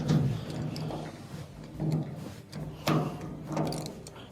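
A wrench twists a stuck leveling leg off a washer, giving four or five short scraping, clunking metal bursts spaced about a second apart over a low steady hum, close and moderately loud.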